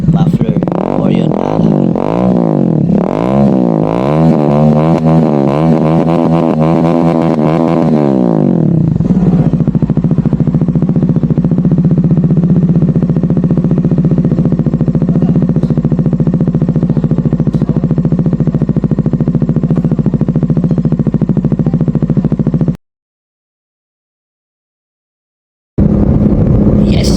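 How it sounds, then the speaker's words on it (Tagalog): A motorcycle engine fitted with a newly installed Orion ARA aftermarket muffler revs and rises in pitch in the opening seconds, then settles into a steady idle rumble before a brief dropout and return. "Okay, final sound check. Ayan na, kinabit na yung muffler"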